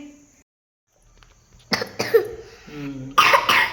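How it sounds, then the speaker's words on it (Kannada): A child coughs several times in short, raspy bursts after a quiet start, with throaty sounds between the coughs. "ಕೆಮ್ಮಾಗ್ಬಿಟ್ಟಿದೆ ಮಗುಗೆ ಕೆಮ್ಮು"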